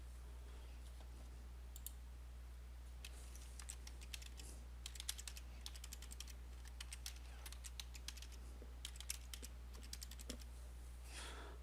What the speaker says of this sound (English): for now I'm just typing in these users.